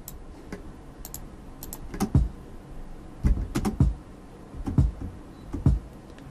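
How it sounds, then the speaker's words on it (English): A standard kick drum sample played back in Pro Tools: a handful of deep, punchy thumps with sharp attacks, landing in an uneven pattern with short gaps between hits. "so just a standard kick drum"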